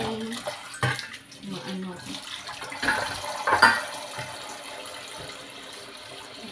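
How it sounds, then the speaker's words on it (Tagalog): Cold tap water runs and splashes into a pot of boiled eggs, with clattering and surges of flow, while a person speaks briefly over the water. "Lagyan na natin ng malamig na tubig para madaling"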